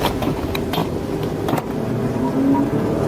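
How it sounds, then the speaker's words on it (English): A police car's PIT maneuver on a fleeing suspect's car, caught on dashcam: a loud, continuous road and engine roar with several sharp knocks and thumps from the contact. "A perfectly timed, decisive pit maneuver."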